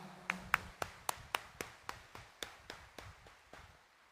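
A church congregation during a homily claps in a slow, steady series of about fifteen sharp, evenly spaced claps, moderately close and fading slightly toward the end, with no voices over them.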